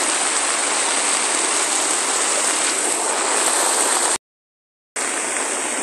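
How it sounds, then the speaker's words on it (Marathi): Heavy monsoon rain in the Konkan near the Amboli waterfall road pours as a dense, steady loud hiss, broken by a brief silent gap before resuming. "हे पहा अशा प्रकारे पाऊस लागतो"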